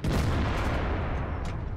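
A tank cannon fires in World of Tanks, a single loud, heavy boom that decays into a low rumble.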